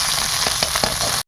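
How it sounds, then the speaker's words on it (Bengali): Freshly caught field magur fish fries in oil with a loud, close hiss, broken by a few sharp pops and crackles before it cuts off abruptly. "মাছ ভাজা হয়ে গেছে"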